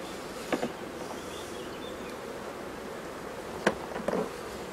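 Honeybees mill around an opened hive after swarming, a soft steady buzzing drone with a few louder bursts as individual bees fly close, alongside light rustling.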